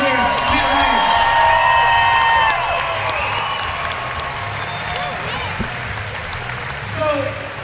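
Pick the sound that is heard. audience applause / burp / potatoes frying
audience applause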